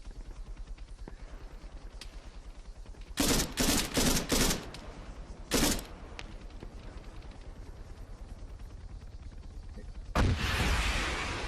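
Arma 3 combat: a rapid, steady patter of distant gunfire runs throughout, broken by several loud bursts of close shots and, near the end, a sharp RPG explosion with a rushing tail.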